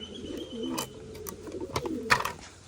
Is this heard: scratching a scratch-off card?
no